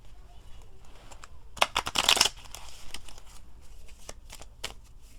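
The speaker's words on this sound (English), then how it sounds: "let's shuffle them again." Playing cards riffle-shuffled at a table: one short, crisp burst of fluttering card noise, close and fairly loud, set against otherwise quiet room tone.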